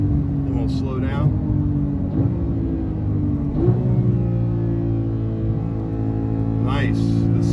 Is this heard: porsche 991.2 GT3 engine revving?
yes